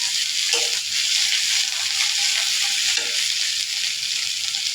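Cumin paste fries in hot oil with a steady, close hiss and crackle, an even sizzle that holds at constant loudness with a few soft stirring scrapes.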